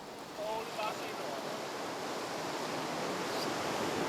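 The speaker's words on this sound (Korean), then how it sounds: "산호초 바다의 평화로운 물결 소리를" Gentle waves lapping on the calm lagoon side of a coral reef island in Tuvalu, a steady soft wash of water with light wind noise, continuous and moderately near with no talking.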